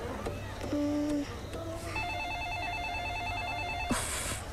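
A telephone rings in a home during a power cut, a steady electronic warble repeating for a couple of seconds amid quiet room sound and faint earlier tones.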